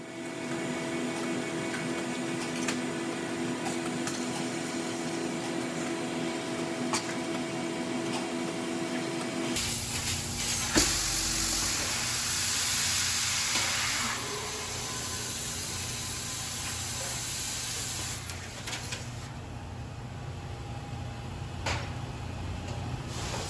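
A thermoforming machine at a plastics plant cools a molded medical lockbox case and releases it from the mold, giving a steady mechanical hum that shifts abruptly into a louder broadband whoosh of air and machinery partway through.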